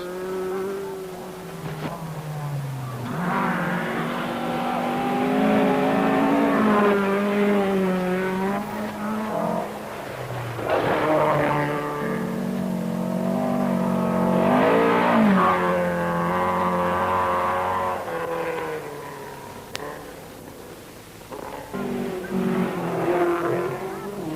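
Rally cars at the 1,000 Lakes Rally in Finland roar past one after another, engines revving hard and rising and falling in pitch as they pass close by, loud and continuous with brief lulls between cars.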